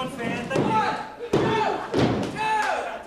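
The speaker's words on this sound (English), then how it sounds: "Slams him down." Three heavy thuds of a wrestler slammed onto a springy ring mat land one after another, each followed by a short rattle, under an excited commentator's voice and crowd noise at a wrestling match.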